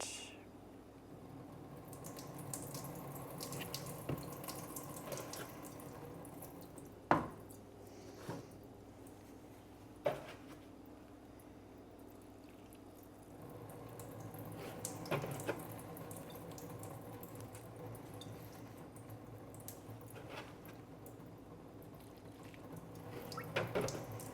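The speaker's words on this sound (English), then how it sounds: "I'm just gonna water through with that" Tap water runs into a sink while potted plants are watered, a soft steady trickle broken by a few sharp knocks and clatters of pots, fairly quiet throughout.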